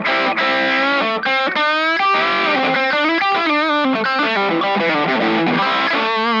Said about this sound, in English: Everybody knows that sort of Tube Screamer push.